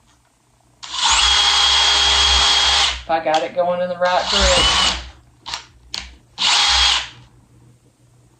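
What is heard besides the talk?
power drill drilling two holes in wood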